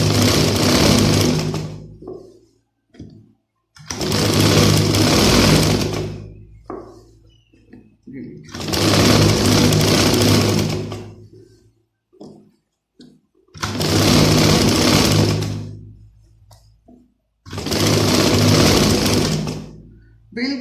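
Electric sewing machine stitching elastic into a shalwar, running in five loud, close bursts of rapid needle chatter separated by pauses.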